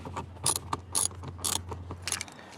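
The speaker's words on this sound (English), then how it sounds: "And we'll take those off with a ratchet." A ratchet wrench clicks in quick bursts while removing bolts from a car door panel. The rapid pawl clicks are close and crisp, with no talking.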